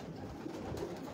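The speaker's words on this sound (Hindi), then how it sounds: "ये आ गया जी दूसरा कबूतर।" A pigeon of an old, traditional breed coos softly in a single low, murmuring call, faint and close with a steady background hum.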